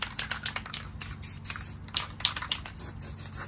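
A spray paint can hisses over a deer cutout stencil in short bursts of varying length, close and fairly loud, with no talking.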